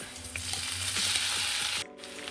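Beef sizzles loudly in a hot pan with shallots, with a steady frying hiss and occasional stirring clinks, then cuts off abruptly near the end before the sizzle resumes.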